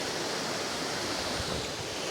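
River water rushes out of a mill tail race beneath a sluice in the Derbyshire Dales, a dense, steady broadband roar heard close up without any voices.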